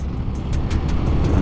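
A heavy tanker truck carrying crude palm oil rumbles steadily past on a road, a deep, loud engine drone with no voices.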